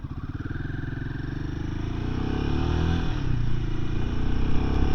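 A 2024 Royal Enfield Himalayan 450 motorcycle accelerating from low speed, its single-cylinder engine thumping steadily and rising in pitch and loudness, close up, with no talking.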